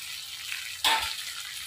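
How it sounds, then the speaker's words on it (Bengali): Tomatoes sautéing in a pan: a quiet stretch, then a sudden bright burst of sizzling that fades over about a second. "টমেটোটাকেও বেশ কিছুক্ষণ ধরে কষিয়ে নিতে হবে"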